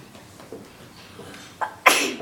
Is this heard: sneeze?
yes